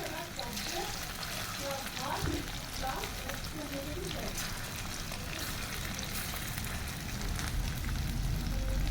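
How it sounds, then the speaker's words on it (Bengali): Pakoras deep-frying in oil until reddish brown, a constant crackling sizzle close by with someone talking over it throughout. "চলো পকোড়াগুলোকে আমি লাল লাল করে ভেজে নিই"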